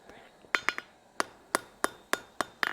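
A blacksmith strikes hot metal on an anvil: about nine sharp, ringing hammer blows in a quick, uneven rhythm, close and crisp against a quiet workshop background.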